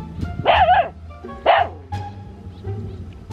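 A dog barks sharply a few times close by in a rural Vietnamese outdoor setting during a golden apple snail hunt, the barks spaced apart with a quieter rustle and low background noise between them.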